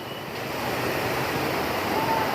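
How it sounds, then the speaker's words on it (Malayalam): Rushing water roars steadily and loudly at the Kuttalam waterfall, a dense continuous wash with no pauses. "കുറ്റാലം വെള്ളച്ചാട്ടത്തിൻ്റെ കാഴ്ചയിൽ."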